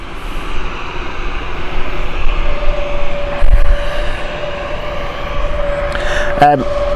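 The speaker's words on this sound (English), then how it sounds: "with the amount of airflow that these engines produce that sound" A steady, roaring Airbus A220 jet engine drone with a rising whine at Gatwick Airport, loud and close, plus a brief sharp rattle near the end.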